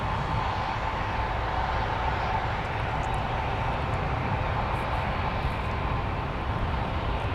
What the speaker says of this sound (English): the aircraft that went for the missed approach, Delta 2262 from Las Vegas